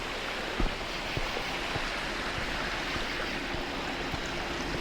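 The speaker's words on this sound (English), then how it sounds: "Sweet little waterfall here." A small waterfall beside a pond gives a steady, broad rushing hiss of falling water, constant and fairly near, with faint knocks, and no talk.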